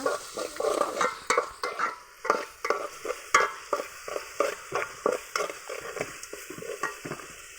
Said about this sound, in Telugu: బాగా అయితే కలిపేసుకోవాలి ఇట్లా